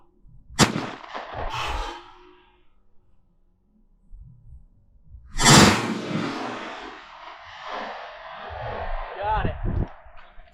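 A 20 gauge shotgun firing a 7/8 ounce shell fires one loud, sharp blast outdoors. A second heavy report follows with a long rumbling decay, and voices talk briefly between and after the shots.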